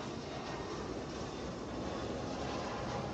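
An Airbus A320 airliner arriving from Syracuse at Atlanta, a steady, loud broadband jet roar that holds constant throughout, with no voices.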